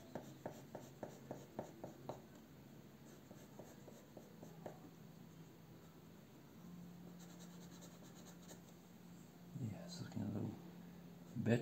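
A pencil scratches and shades on paper up close, opening with a run of short rhythmic strokes, then a longer steady scraping hum and a few louder rubbing passes near the end, faint and intimate.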